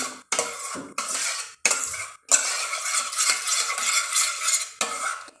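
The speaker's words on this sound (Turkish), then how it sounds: "kalan muhallebimizi de şöyle bir karıştıralım" Leftover muhallebi pudding is stirred in a pot, with several close scraping strokes of a utensil against the metal separated by short pauses. No one talks.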